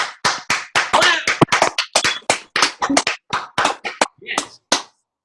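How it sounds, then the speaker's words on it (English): Rhythmic rounds of hand claps ring out at a team video conference training, sharp and close, with brief pauses between bursts and a voice speaking over them. "y'all learn how to clap with some freaking velocity"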